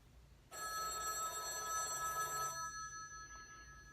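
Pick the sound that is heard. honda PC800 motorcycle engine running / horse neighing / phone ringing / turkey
phone ringing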